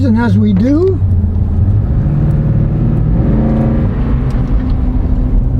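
A Toyota Tundra engine idles with a steady low rumble, then revs up as gas is applied, the pitch rising and holding before easing off, with someone talking briefly at the start.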